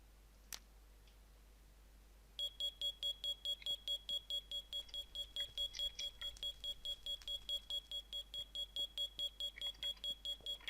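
A fire alarm in the video game Minecraft rings as a rapid, steady series of bright electronic pulses that starts abruptly after a quiet stretch with one early click and continues loud and regular to the end.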